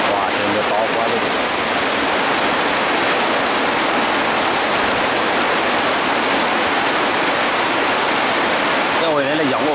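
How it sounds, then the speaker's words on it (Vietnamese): Heavy rain pours down in a dense, unbroken roar, with a voice briefly heard near the end. "Quả trời mưa to quá luôn."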